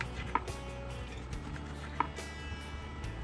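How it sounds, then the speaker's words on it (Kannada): A knife cuts through brinjal (eggplant) on a board, giving two sharp, close taps about a second and a half apart over a quiet background. "ಈ ಥರ ನೋಡಿ ಕಟ್ ಮಾಡ್ಕೊತಾ ಇದ್ದೀನಿ"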